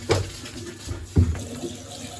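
A bath tap gushes water in a steady close rush with a couple of louder splashy surges, heard alone without speech.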